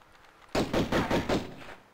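A burst of roughly five rapid gunshots from a weapon in the video game Tomb Raider I Remastered, loud and close, firing in a quick rhythm after a moment of quiet.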